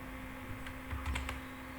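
A computer keyboard clicks with a handful of soft, close key presses over a low electrical hum, including a press of the Enter key.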